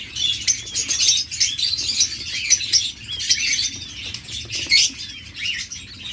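Caged classic king quails chirp busily in high, rapid tweets, with bursts of wing flapping close by and no talking.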